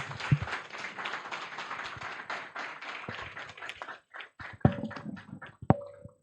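A conference audience at an employment law event applauds in a dense burst that thins into scattered, uneven claps and a few sharp thuds as it dies away.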